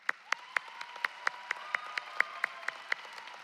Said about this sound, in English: let's give a round of applause to all of your spouses, children, parents, friends,